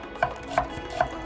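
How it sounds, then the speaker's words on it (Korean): A knife chops an onion into thin strips on a cutting board, three crisp sharp knocks spaced about a third of a second apart, close and clear with a faint room background. "먼저 양파를 1개 준비해서 채를 썰어주세요"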